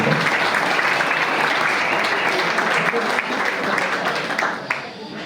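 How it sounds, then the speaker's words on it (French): A carnival crowd at a princely investiture parade claps steadily and loudly throughout, a dense continuous wash of applause that thins slightly near the end. "Oui, n'hésitez pas à applaudir."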